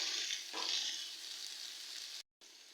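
Dried lotia fish frying in oil with onion and garlic, a quiet, even hiss of sizzling that swells slightly early and then cuts out briefly near the end, with no voices.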